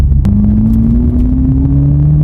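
A 2021 Toyota GR Supra 2.0 Fuji Edition accelerates at full throttle, its engine note climbing steadily in pitch as a loud, close rumble fills the cabin with no talking.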